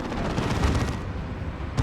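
A battlefield explosion from the real-time strategy game Dawn of War 2 booms amid ongoing gunfire and combat noise, with a couple of heavy low thuds in quick succession.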